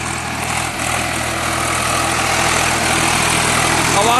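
An old 1993 Swaraj 735 tractor engine runs steadily in first gear beside a millet field, a loud, continuous close-up drone with no pauses and no talking.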